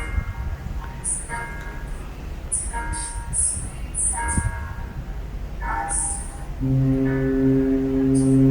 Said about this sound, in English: Foghorn for atmosphere.